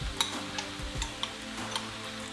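Quinoa is stirred into vegetables in a frying pan, with a steady close sizzle and a few sharp clinks and scrapes of a utensil against the pan.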